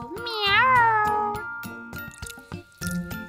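A cat meows clearly, with a rising then falling drawn-out call followed by softer chirpy sounds, close and fairly loud against a quiet background.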